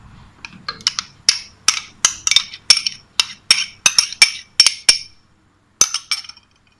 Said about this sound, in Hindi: इसको अच्छी तरह मिक्स कर लेते हैं।